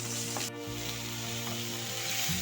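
Chopped onion and crushed garlic sautéing in a pan, a steady close sizzle with light stirring scrapes throughout, no voices.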